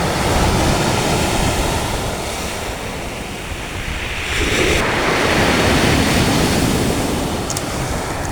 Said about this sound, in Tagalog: Gusto lang laki ng alon.